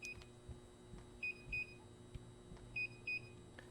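Electronic beeps in a backrooms horror game: two pairs of short, high, clean bleeps, evenly spaced over a low steady hum with faint clicks.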